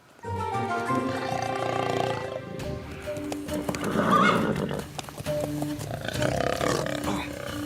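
Cartoon horses whinny loudly over the rhythmic clatter of galloping hooves, with dramatic music swelling in the background, in an animated series.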